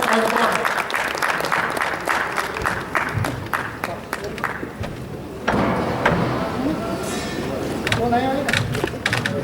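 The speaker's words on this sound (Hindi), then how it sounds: "तालियों से स्वागत करेंगे प्रोफेसर दिवाकर।" Audience applause at a national astrology conference at the City Palace in Udaipur, a dense burst of clapping that rolls on steadily and stays loud throughout.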